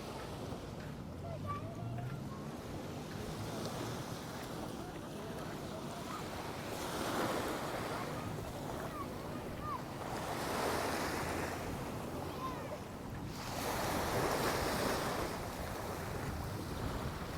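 Sea waves roll in and wash up on a fine-sand beach at Marmaris in repeated surges, with steady wind noise over the microphone and no one talking.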